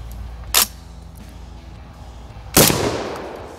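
An ATI Bulldog shotgun fires Winchester 00 buckshot at an outdoor range, two sharp, loud blasts about two seconds apart, the second louder and trailing into a brief echo.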